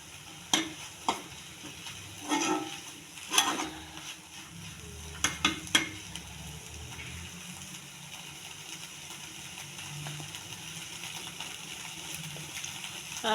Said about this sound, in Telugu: మనం మాడిపోకుండా ఇలా కలుపుకుంటూ ఉండాలండి, అడిగట్టేస్తుంది కలపకపోతే